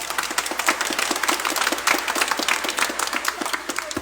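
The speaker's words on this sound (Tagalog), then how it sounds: "Pumalakpak ng malakas." A congregation at a Quiapo Church Simbang Gabi Mass claps loudly, close and dense with fast overlapping hand claps over the low hum of the hall.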